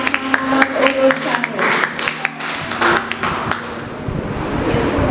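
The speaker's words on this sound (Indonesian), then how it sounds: "Beri tepuk tangan yang meriah untuk pasangan urut" Audience applause at a student executive board presidential candidate debate: a crowd of hands claps, scattered and tapping at first, then building into a dense, steady wash that carries through to the end.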